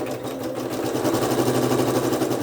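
A sewing machine stitching fabric for cathedral window quilt squares, running in one continuous, loud, close mechanical whir with a steady rapid pulse throughout.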